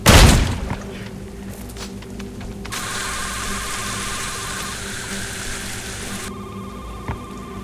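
A single loud gunshot in a video game cracks at the start and decays quickly, followed by quieter game ambience with a sustained electronic tone and faint clicks.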